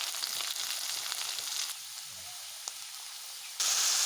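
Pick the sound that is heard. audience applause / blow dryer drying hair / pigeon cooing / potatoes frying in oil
potatoes frying in oil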